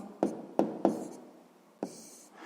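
Pen strokes on paper while working a sixth-grade maths exercise, four short scratchy bursts spaced unevenly, quiet and close with no voice over them.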